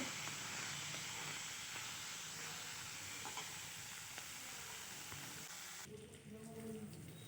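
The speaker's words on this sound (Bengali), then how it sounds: "এইবার মাছটা ভেজে নেব" Fish frying in a pan in a home kitchen gives a continuous soft sizzle and hiss that runs steadily, then thins out near the end. No one speaks.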